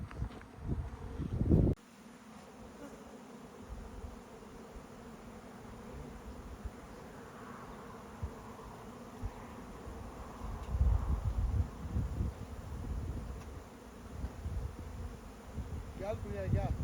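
Steady buzzing of honey bees flying close by while collecting flower nectar, with wind noise and a muffled thump at the start.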